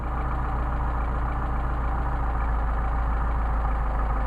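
Engine idling steadily with a Solex carburetor while its mixture screw is adjusted, a constant close low rumble with an even rhythmic pulse and no variation in level, no talking.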